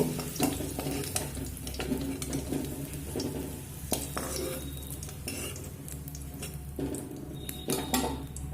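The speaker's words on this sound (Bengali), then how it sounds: "এই একই তেলের মধ্যে পেঁপে আর আলুটা আমি একসঙ্গে লবণ আর হলুদ দিয়ে ভেজে নেব" Papaya and potato pieces frying in oil with salt and turmeric, a continuous close sizzle broken by frequent metal spoon scrapes and clinks against the pan.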